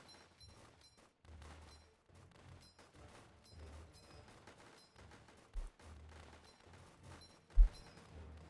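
Rifle fire in the tower defense game Northend Tower Defense: a steady patter of quiet, crisp shots in uneven bursts, with a couple of louder thumps near the end.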